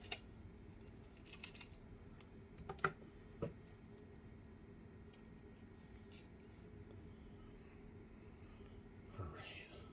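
Scissors snipping open the packaging of a new NVMe 2242 SSD, a few faint, quiet clicks and cuts close by over low background hum.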